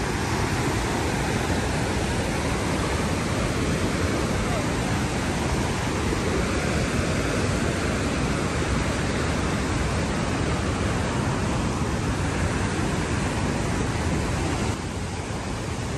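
Niagara Falls roars without a break, a dense, even rush of crashing water that fills everything.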